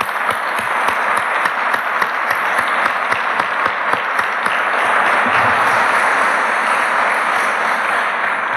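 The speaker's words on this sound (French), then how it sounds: "je crois qu'ils méritent une très très grande salve d'applaudissements" A conference audience applauds at an opening session, a loud, steady wash of many hands clapping that holds for several seconds and swells slightly toward the end, with no speech over it.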